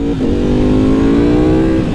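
A 2023 Ducati V4R superbike engine, rated at 238 horsepower, revs loud and close, its steady high-pitched note climbing slightly and holding for about two seconds.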